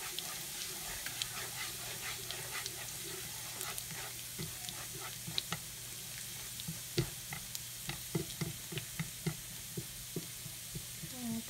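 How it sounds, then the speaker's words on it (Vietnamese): Garlic stir-frying in a hot pot as the base for blood cockle porridge, a steady close sizzle with scattered crackles and spatters and occasional utensil scrapes across the whole stretch. "Bây giờ mẹ mình sẽ đổ một món vô xào để coi đây đổ món gì vô xào để nấu cháo"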